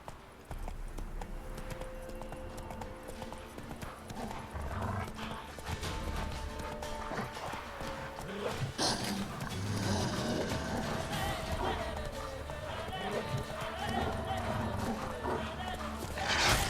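Roach, a horse in The Witcher 3 video game, gallops with steady rhythmic hoofbeats and an occasional whinny, under continuous game music and ambient sound, with someone talking over it.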